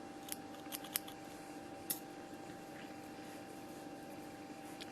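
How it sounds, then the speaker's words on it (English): Scissors snipping crochet yarn, a few quiet, sharp cuts in the first two seconds, close up in a still room. "so I can cut my yarn."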